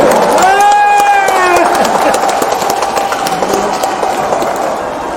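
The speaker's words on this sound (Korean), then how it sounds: "박수 한번 해주십시오." Crowd applause rolls on at a campaign rally for Democratic Party presidential candidate Lee Jae-myung in Iksan, a dense steady patter of many hands held at an even level, with a voice calling out briefly at the start.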